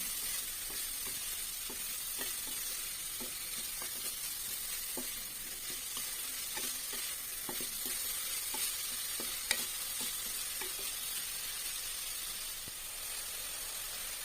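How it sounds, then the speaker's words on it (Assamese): Cauliflower pieces sizzle steadily in a pan of hot oil as they are stirred by hand, with soft scraping clicks scattered over the constant frying hiss and no voices. "ফুলকবি কেইটুকুৰা দি হাতেৰে ধুনীয়াকৈ লৰাই দিছোঁ"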